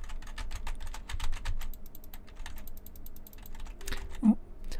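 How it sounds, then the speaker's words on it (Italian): Rapid clicky typing on a computer keyboard with occasional mouse clicks, heard fairly close in a quiet room, a busy uneven stream of keystrokes ending with a single louder knock. "Adesso sto usando il mouse"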